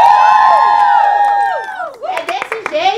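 A party crowd lets out high, drawn-out shrieks and cheers, then breaks into scattered clapping and shouts, loud and close.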